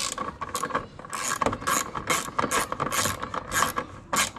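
A ratchet and socket tightens a carburetor on a Honda CB 125F motorcycle, giving quick repeated clicking strokes in an even rhythm, close and clear, with no talk.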